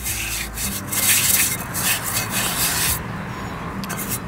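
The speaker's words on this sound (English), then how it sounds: "we're gonna go ahead and give it a little bit of a scrub" Rusty metal piece being scrubbed after a vinegar spray rust treatment, giving a steady close rasping rub that runs for several seconds and eases off near the end.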